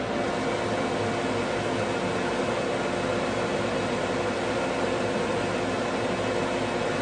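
Woodworking dust collector with a filter bag, its fan running as a steady, dense hiss of air and motor hum, constant and close throughout with no talk.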